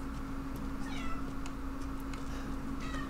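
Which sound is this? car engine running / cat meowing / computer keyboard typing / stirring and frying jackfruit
cat meowing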